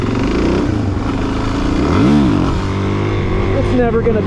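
A Suzuki DR-Z400 supermoto engine runs loud and close, its thumping idle climbing into a sharp rev and dropping back, then blipping again near the end.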